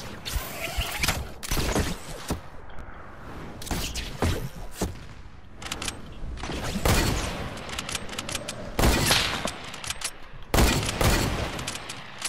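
Rapid bursts of gunfire in a Fortnite match, loud repeated volleys and fusillades with short gaps between them, sharp and close throughout.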